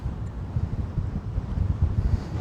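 Strong gusting wind buffets an outdoor microphone on a very windy day at a drone flying spot, a loud continuous low rumble that surges and dips throughout with no speech.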